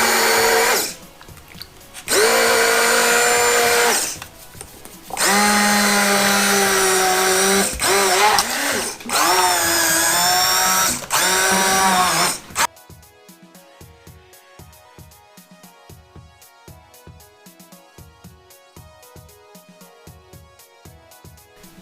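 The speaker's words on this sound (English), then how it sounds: "now, to bring out the immersion blender. And you're just going to blend this until it's nice and smooth." An immersion blender blends a red velvet ice cream base in loud, high whirring bursts with short pauses between them, followed by a long stretch of quiet, rhythmic background music.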